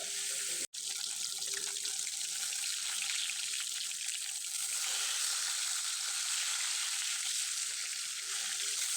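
Fish frying in hot oil in a wok, giving a steady, dense sizzle that runs unbroken from start to end apart from a brief dropout near the beginning.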